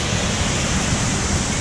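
Waterfall in the Prealpi Giulie park, heard as a steady, dense roar of falling water that fills the whole moment without a break, close and fairly loud, with no voices over it.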